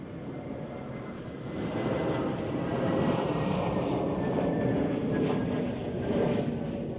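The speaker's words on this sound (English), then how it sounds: "So this is A320 Neo." An Airbus A320neo lands at Zurich Airport in gusty crosswinds, its broad engine roar steady and fairly loud from a distance, swelling slightly midway, with no talk over it.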